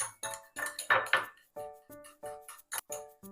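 A spoon clinks repeatedly against a bowl while persimmon pulp is mixed with sugar, producing a quick run of bright, close taps and chimes.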